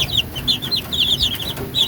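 Thirsty young chicks cheep in a rapid, continuous chorus of high, thin peeps, close by and fairly loud, with no voices.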